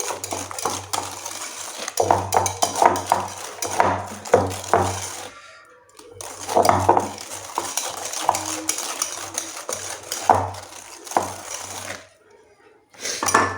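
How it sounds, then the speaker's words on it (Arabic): A utensil stirs brownie batter in a small bowl, making repeated quick clinks and scraping taps against the sides in uneven bursts, with short pauses between rounds of stirring. "غنحرك هنايا مزيان"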